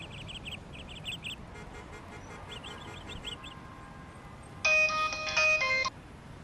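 A mobile phone ringtone sounds during a call in a comedic Assamese setting: soft chirping electronic notes first, then a louder, bright two-part synthetic ring near the end, with no voices over it.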